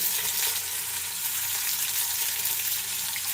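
Meat for a rogan josh sears in a hot pan with a loud, continuous sizzling hiss and fine crackle, steady throughout and without speech.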